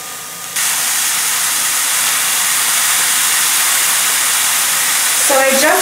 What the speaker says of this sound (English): You can hear them sizzling.